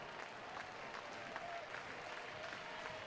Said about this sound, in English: Crowd making some noise here with 2 down